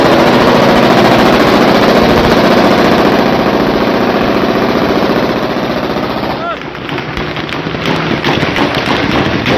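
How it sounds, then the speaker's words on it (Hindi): Gunfire and explosions during violent clashes in Syria, a dense, loud and continuous barrage of shots and blasts that thins out slightly near the end, with a voice talking underneath. "गोलियों की आवाज, धमाकों की आवाज इस वीडियो में आपको सुनाई देगी"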